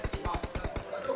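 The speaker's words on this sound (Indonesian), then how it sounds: "Tembakan menggunakan M2849 sekarang ini" Rapid bursts of M2849 gunfire in a competitive video game scrim, about eight evenly spaced shots in quick succession, loud and close, with a caster's commentary running underneath.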